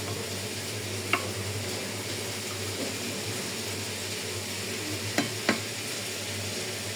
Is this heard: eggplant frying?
yes